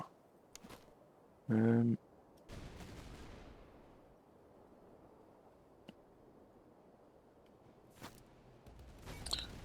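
Musket troops firing in a strategy video game: faint scattered gunshots and volleys over a low battlefield murmur, with one loud burst early on and a few sharp cracks later.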